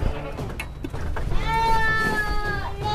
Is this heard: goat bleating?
yes